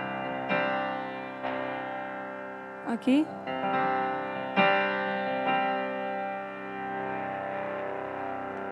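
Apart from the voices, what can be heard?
Nord Piano 5 with Small amplifier simulation drive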